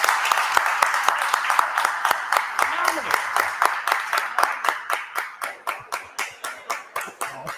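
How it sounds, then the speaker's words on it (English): Round of applause from an audience at a talk on reparative justice and Black music culture, steady dense clapping that thins toward the end into a smaller group of distinct, rhythmic claps. "So you just give him another round of applause."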